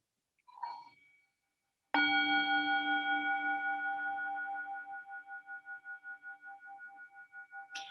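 A Peace Bowl singing bowl is struck once at the opening of a Unitarian Universalist church service after a soft knock. It rings out in a long, pure, pulsing tone that slowly fades. A faint tap follows at the end.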